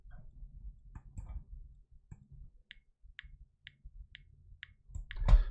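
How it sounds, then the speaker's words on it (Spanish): A short kick drum sample trimmed to its click: a row of crisp, evenly spaced ticks sounds alone and quietly between faint soft knocks, ending in a louder thump. "Me quedaré solo con ese pequeño clic."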